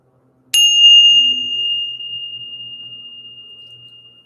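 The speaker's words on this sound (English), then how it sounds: "let's go ahead and ring this bell" A single hand bell is struck once before a prize number is drawn. Its clear, bright ring sustains and slowly fades over several seconds, and faint murmuring sits underneath.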